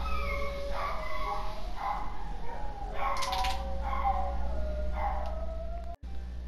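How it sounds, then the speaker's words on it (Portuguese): Several pet dogs barking, yipping and whining in rising, howl-like cries, at moderate distance over a steady low hum, with a sudden click near the end. "meus cachorros começaram a latir insanamente"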